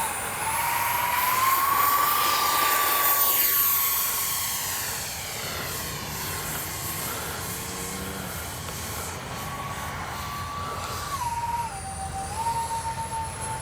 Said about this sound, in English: Solid flying little plane.